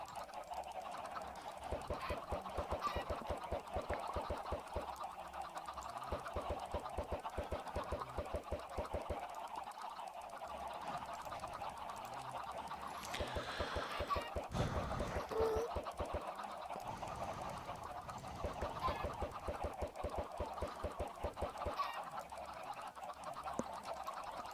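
A dense crush of Minecraft chickens clucks continuously, a fast, busy, rhythmic chatter of many birds packed together, steady and fairly faint throughout.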